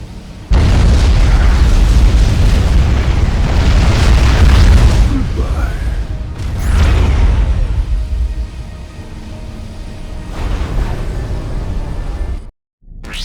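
In a Supreme Commander: Forged Alliance cutscene, the QAI is destroyed in a massive explosion: a loud, sustained booming rumble with layered blasts that swells, briefly eases, surges again and then cuts out abruptly.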